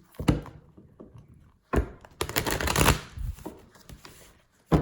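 Tarot cards shuffled by hand in several bursts, crisp riffling flutters and soft thumps of the deck separated by brief pauses, close and clear with no talking.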